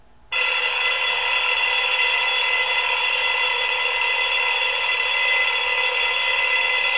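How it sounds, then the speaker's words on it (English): A GOgroove BlueSYNC TYM wooden Bluetooth alarm clock rings loud and close, starting abruptly and holding a steady, bright electronic tone with no let-up, alone without any talk. "I also forgot to give you a demonstration of how the alarm clock sounds."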